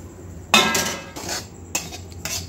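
Semolina goes into a lightly oiled wok, with a few sharp metallic clinks and scrapes of a spoon against the pan separated by short pauses, close and fairly crisp.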